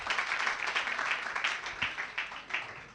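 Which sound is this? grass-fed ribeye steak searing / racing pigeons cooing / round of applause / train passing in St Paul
round of applause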